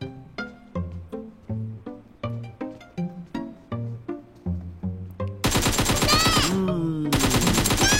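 Gunfire in the mobile game PUBG Mobile: a steady rhythm of sharp single shots, roughly two per second, then a loud continuous burst of automatic fire with ringing tones near the end.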